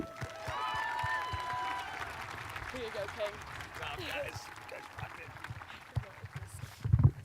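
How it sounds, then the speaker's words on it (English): An audience claps for a speaker at a high school graduation ceremony; a soft, diffuse patter of applause fades gradually in a large venue, with a voice over it. "I definitely appreciate the applause"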